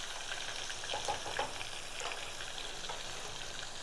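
Green chillies and curry leaves frying in oil in a hot pan for temple-style katte pongal, a steady close sizzle with faint crackles and pops throughout, no voices.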